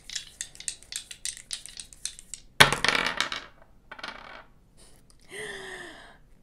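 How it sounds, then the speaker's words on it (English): Dice for astrology readings rattle and clatter against a hard surface in a quick run of clicks and taps, followed by a louder tumble and a few scattered knocks, close and alone. "I'm gonna go ahead and roll my astrology dice just so we can see what zodiac signs we're dealing with."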